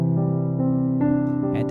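A piano plays a steady left-hand chord pattern, with sustained low chords and soft repeated attacks roughly every half second, heard close and alone.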